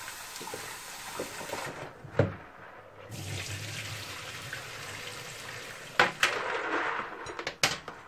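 Water splashes and sloshes in a sink while glass items are washed with vinegar and soap, with a few sharp knocks and clinks of objects against the basin.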